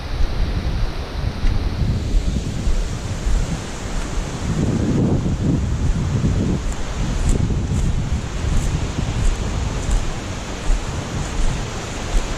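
Water flows steadily in a woodland stream on a Mt. Toby hike, a continuous broadband wash mixed with wind buffeting the microphone, with no voices.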